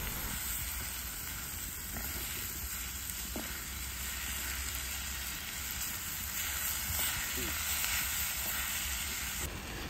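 Rice sizzles and fries in a pan with tomato, pepper and garlic as it is stirred, a steady close hiss running throughout with faint scraping of the stirring.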